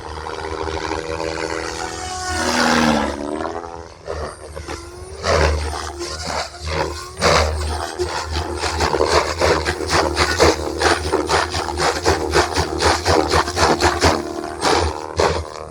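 An RC helicopter fitted with a FrSky Vantac RF007 Rotorflight flight controller spins its rotor up from about 2000 to 2400 RPM, giving a loud whirring, pulsing roar that rises in pitch and then holds steady nearby.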